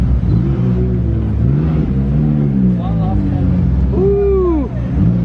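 McLaren 570 and 12C supercars drive past, their engines giving a loud sustained rumble with revving swells and a sharp rising pass near the end, while people talk over the noise.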